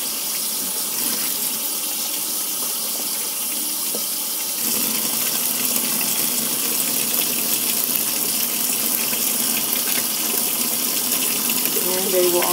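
A steady, continuous rush of running water rinses a handful of makeup brushes together in a brush cleaner kit, a constant close gushing hiss that holds even and unbroken throughout.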